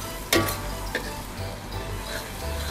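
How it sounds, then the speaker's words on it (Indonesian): Garlic frying in hot oil in a pan while making shrimp-filled rice rolls, a steady close sizzle with a few sharp clinks or stirring scrapes at the start. "ini masukkan bawang putihnya duluan"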